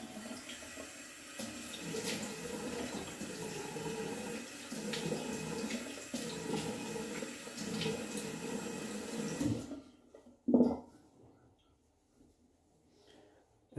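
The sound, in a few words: water splashed on face before a traditional shave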